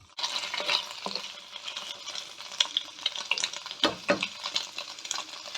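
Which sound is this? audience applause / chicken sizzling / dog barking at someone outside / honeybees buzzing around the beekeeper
chicken sizzling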